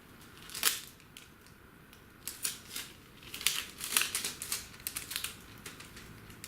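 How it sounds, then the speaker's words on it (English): Adhesive tape pulled off the roll and pressed around a solvent-cemented seam on a plastic dust extraction hose adapter, heard as a few sharp crinkling, tearing bursts between quiet pauses, close up. "use some tape to hold the joint closed"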